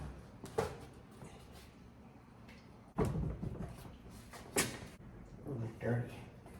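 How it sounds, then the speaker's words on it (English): Old doors that have sat for a decade being shifted and handled, giving sharp knocks and thumps at about 0.6, 3 and 4.5 seconds, with scuffs and clatter between them, close by and fairly quiet. "My next project is moving these doors."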